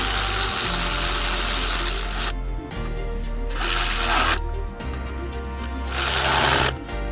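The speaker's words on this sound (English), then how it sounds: "you can take your ratchet or your air ratchet and tighten them down evenly" Pneumatic air ratchet tightening high-pressure fuel pump bolts on a 2015 Ford Fusion EcoBoost, loud buzzing bursts repeating in three runs with short pauses between them, close up and without talk.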